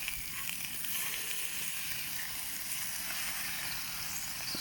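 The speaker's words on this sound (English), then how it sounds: "Making bacon on the stove" Bacon frying in a pan on a camping stove in a back garden gives a steady, soft sizzle and hiss that holds evenly throughout, with no voices over it.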